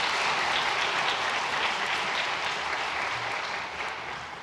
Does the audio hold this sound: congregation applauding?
yes